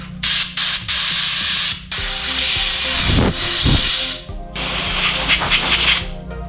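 Loud compressed air blasts out the elbow fitting on a fuel-injected Kubota engine, several strong hissing bursts with short gaps between them, close to the mic.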